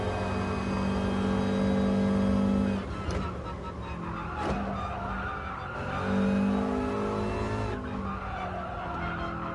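A Subaru race car in a racing video game, its engine droning and revving steadily at high pitch throughout, with brief tire-skid squeals and dips where the revs drop and climb again.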